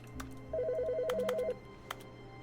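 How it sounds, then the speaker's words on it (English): An in-game telephone in The Stanley Parable rings once as a fast warbling electronic trill lasting about a second, fairly faint over a low steady background hum. "I hear a phone."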